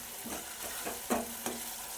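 Buttermilk poured into a pan of cooking sponge gourd curry, a sizzle broken by a few short stirring scrapes and splashes over about two seconds.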